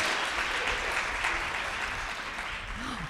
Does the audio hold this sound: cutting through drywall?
no